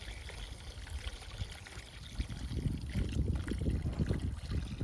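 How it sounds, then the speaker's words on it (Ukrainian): Water pours steadily into a cauldron with a splashing, gurgling flow that grows fuller and louder partway through, close by. "і відразу додаємо води"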